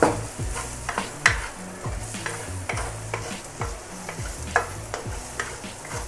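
Fried noodles tossed in a pan with onion powder, a continuous close sizzle punctuated by rhythmic clanking stir-and-toss strokes about once a second, with no voices.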